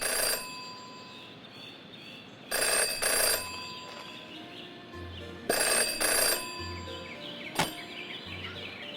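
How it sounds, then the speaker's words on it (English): A telephone rings in the Jenny LeClue video game, several distinct bursts repeating every few seconds over a low ambient hum, with a sharp click near the end. "Jenny had learned never to ignore a ringing phone"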